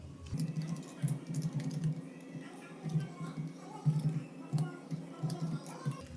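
Fingers tapping a computer keyboard while entering month names into a Google Sheets spreadsheet, rapid irregular bursts of close keystrokes with short pauses between words, quiet and up close.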